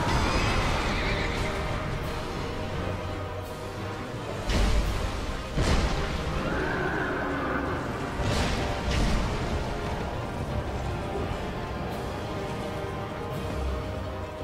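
A horse whinnies and neighs several times amid the clatter and crashes of a boss fight in Dark Souls II, the hoofbeats and cries loud and close over a dense, busy game soundtrack.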